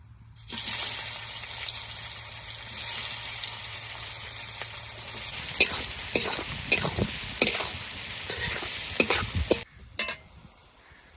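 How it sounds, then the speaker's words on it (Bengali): Onion hisses and sizzles in hot oil seasoned with cumin and bay leaf, the base for a meat curry; a steady fry runs throughout, with the clatter of a utensil stirring the pan in the second half. "পেঁয়াজটা একটু ভেজে নিয়েছি"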